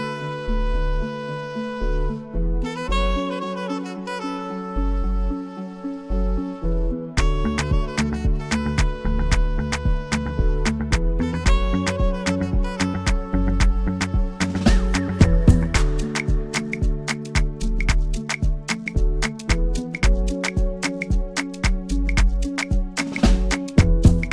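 Afrobeat type beat with punchy, booming kicks, crisp percussion and layered melodic synths in a steady bouncy groove, a brief sparse intro before the full beat drops in, loud throughout with no vocals.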